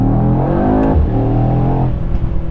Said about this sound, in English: You can actually hear the rear wheels go in second gear.